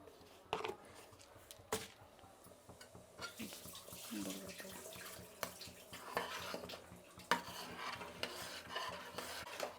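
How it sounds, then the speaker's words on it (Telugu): Thick Karnataka wedding-style sambar with spice powder mixed into water is stirred in a pot, with repeated scraping and sloshing strokes and wet bubbling up close. "అప్పుడు బాగా కలుపుకోవాలి ఉండలు కట్టకుండా"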